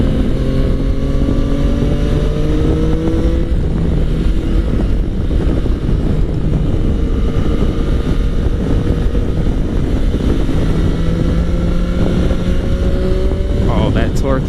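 A 2017 Yamaha FJ-09 motorcycle accelerates on the road, its engine note rising in steady climbing sweeps over constant loud wind rush, heard from the rider's position without any talk.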